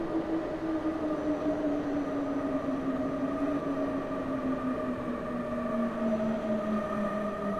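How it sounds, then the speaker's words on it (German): A Class 423 Cologne S-Bahn electric train in Train Simulator 2020 runs with a steady rolling hum and a prominent motor whine whose pitch slowly falls as it slows, with no talk. "Hier eine Baureihe 423 der S-Bahn Köln."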